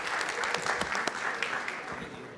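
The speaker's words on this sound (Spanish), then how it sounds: "Muy bien, un aplauso por favor." A small group claps steadily for a couple of seconds, a modest round of applause with a voice faintly underneath.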